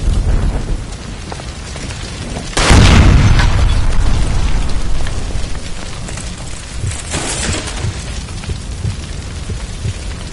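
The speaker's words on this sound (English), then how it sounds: "Shoot the gas line, Cole, we're out of here!" A gas line by a stove explodes in the video game L.A. Noire, a sudden loud blast that erupts and then rumbles and crackles away, followed by a steady hiss of debris and fire.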